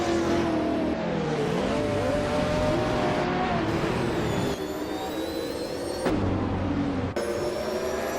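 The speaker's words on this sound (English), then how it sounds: "Jazz is starting on pole position, driving a 1997 Panoz Esperante GTR 1 in the GT1 class" A 1997 Panoz Esperante GTR-1 GT1-class race car in a video game race, its engine roaring loud and continuous with rising and falling pitch through gear changes and no gaps.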